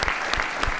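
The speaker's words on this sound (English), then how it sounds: "So I think we have a round of applause for this crowd." Dense, steady clapping fills a conference room as a seated audience at a kidney cancer research meeting gives a round of applause, close and continuous.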